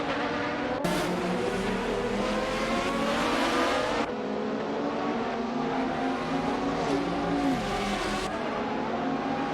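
AI-driven GT race cars lap Suzuka in a racing simulator game, their engines roaring and revving continuously with pitch sweeps through gear changes, loud and close, with no voices.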